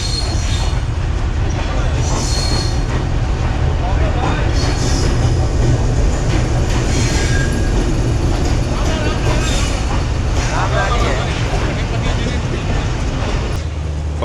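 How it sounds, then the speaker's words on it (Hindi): A train hauled by locomotive 4554 rolls through Jhelum railway station on the Lahore to Rawalpindi route, a loud continuous rumble of wheels on rails with metallic squeals, heard up close while people talk nearby. "ये ट्रेन भी हमारी आ गई है।"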